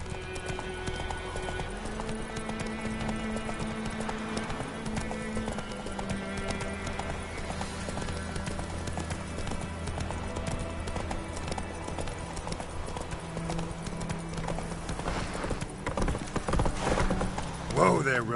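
In The Witcher 3 video game, the horse Roach trots with steady clip-clop hoofbeats and a neigh, under game music and spoken dialogue, with the hoofbeats close throughout.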